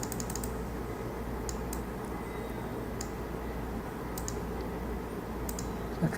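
Faint mouse clicks while working in Civil 3D, a few isolated light clicks and short bursts over a steady background hum, with no speech.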